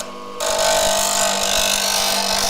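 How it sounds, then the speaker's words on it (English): A bench grinder sharpening a hand tool held against the wheel starts up abruptly and runs as a steady, loud whining hum with a grinding hiss, no speech. "Lock it into place so it doesn't move, and you just lean it against the grinder."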